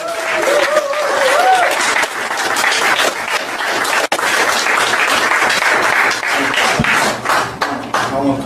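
An audience gives a sustained round of applause for restaurant staff at a live event, dense clapping filling the room with some cheering and a brief voice at the start.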